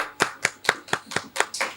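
Seven sharp, evenly spaced claps sound close and distinct, a single person clapping at a poetry gathering.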